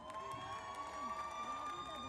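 Concert crowd in Pakistan cheering and clapping for the band, a dense continuous roar of shouts and applause with sustained tones from the stage running underneath.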